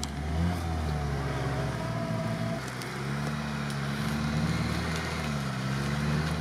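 A ZAZ-968M car engine drones steadily as the car drives off-road, near and fairly loud, its pitch dipping and rising slightly with the throttle across the whole stretch; no voices.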